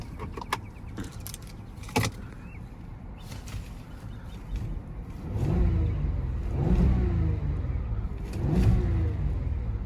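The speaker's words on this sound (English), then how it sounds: "Pretty powerful engine. You can just hear it rumble." A 2019 Volkswagen Atlas SEL Premium engine rumbles and revs in several swells, with a few sharp clicks and jingles earlier on, recorded close by.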